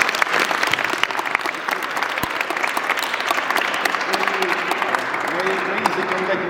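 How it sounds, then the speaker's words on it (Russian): A school classroom audience claps steadily throughout, a dense, even patter of many hands close by, with faint voices mixed in toward the end. "Давайте за это похлопаем."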